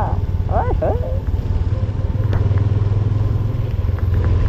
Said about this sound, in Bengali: মেঘের ভিতর দিয়েই বাইক চালাচ্ছি এখন